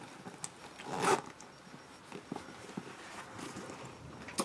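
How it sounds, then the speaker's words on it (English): A boot zipper is pulled up in one short, scratchy rasp, followed by faint rustles and small taps of handling, with no talking. "And they zip up right here."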